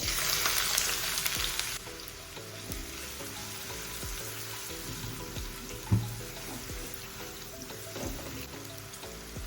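Chopped large onion hits hot oil already seasoned with cardamom and cumin, setting off a loud, close sizzle that settles into steady frying with occasional stirring clinks.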